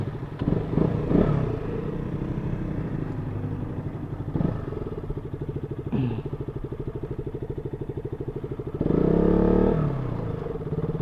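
A KTM RC 200 motorcycle engine drones steadily and close, its pitch shifting a few times as it pulls through the gears, with a louder surge near the end and no talking.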